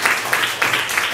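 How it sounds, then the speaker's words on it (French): Schoolchildren clapping together at a school supplies handout in Karlsruhe, a short burst of close, dense applause with a few rhythmic swells. "Applaudissez pour vous-même."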